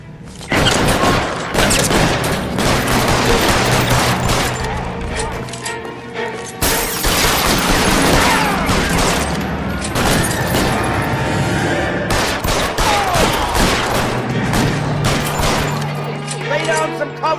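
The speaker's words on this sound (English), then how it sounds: "Lay down some covering fire." A gunfight in L.A. Noire, with repeated loud shots, booms and crashes throughout and voices talking between and over the firing.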